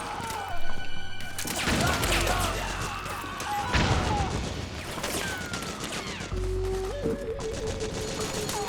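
Heavy impacts and explosions crash in sharp bursts during Metal Gear Solid 4: Guns of the Patriots, from mortar fire in a battle. Several loud hits land a few seconds apart over a constant background of combat noise.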